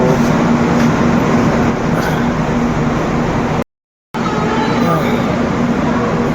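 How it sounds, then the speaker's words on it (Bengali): Loud rumble of the Garib Rath Express train pulling into Cuttack Junction along the rails with a steady low hum, briefly cut to silence midway before the noise resumes. "আমাদের ট্রেন এসে দাঁড়ালো এখন এই মুহূর্তে কটক জংশনে"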